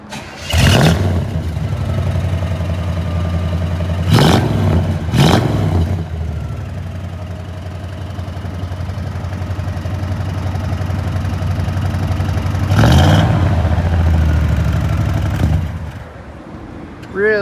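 A 1967 Chevrolet Chevelle Malibu Convertible engine cranks and catches, then settles into a steady idle, with a few brief revs or restarts along the way; close and fairly loud.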